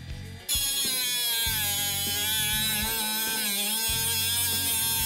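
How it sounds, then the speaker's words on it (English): A Milwaukee M12 FUEL 12-volt brushless cordless cut-off saw with a metal cutting wheel whirs into a high-pitched whine as it bites into metal, its pitch wavering under load, loud and close. "But now we're gonna cut some metal."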